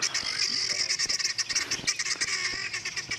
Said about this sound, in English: we heard the call of those guinea fowl. You can hear them, they're very upset